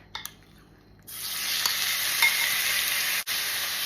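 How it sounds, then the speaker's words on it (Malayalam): Marinated chicken, seasoned with soy sauce, oyster sauce, pepper and baking soda, drops into hot oil for chow mein and bursts into a loud, steady, close sizzle after a quiet start, with a brief dip near the end. "മാരിനേറ്റ് ചെയ്ത് വെച്ചേക്കുന്ന ചിക്കൻ ഇട്ട് കൊടുക്കാമേ."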